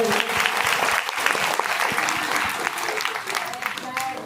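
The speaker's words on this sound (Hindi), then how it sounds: "उनके लिए एक बार तालियां बजाइए आप सभी" Audience at a Shiv Guru satsang gathering gives a round of applause, a loud, crowded clapping that continues steadily with voices murmuring underneath.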